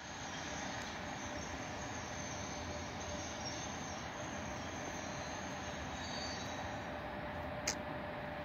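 A DS3 electric train brakes at Kyiv passenger station, giving a steady rumble of rolling wheels with a thin high squeal running throughout, heard from nearby at moderate level, continuous and with no speech.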